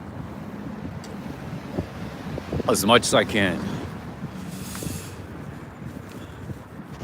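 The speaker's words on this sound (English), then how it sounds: "It is super windy over here." Strong wind buffets the microphone in a constant low roar in Washington, DC on an evening, with a brief spoken phrase rising over it midway.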